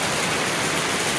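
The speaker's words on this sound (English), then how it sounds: "It's raining cats and dogs out there." Heavy rain falling outdoors in Vietnam, a loud dense continuous hiss of drops with no pauses.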